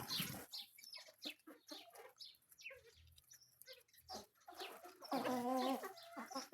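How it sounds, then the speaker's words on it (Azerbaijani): Young silver pullets cluck and cheep nearby in a poultry pen, soft overlapping calls in an irregular stream, with a louder trilling call near the end. "Qəşəng fərələrdir, serebrisdir."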